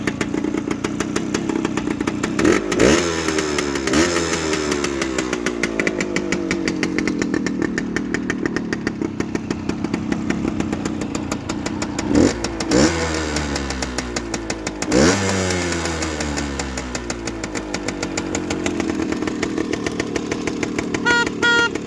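Two-stroke motorcycle engine running close by, revving repeatedly with rising and falling sweeps over a steady crisp, buzzing exhaust note, with several sharp throttle blips.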